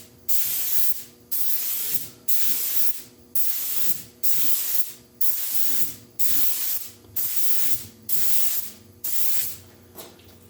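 Aerosol spray can applying red tint to a Honda CR-V tail light in ten short, loud hissing bursts of roughly a second each, separated by brief pauses, with no talking.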